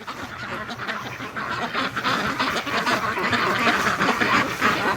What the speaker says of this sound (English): the ducks are going crazy over the end of the hose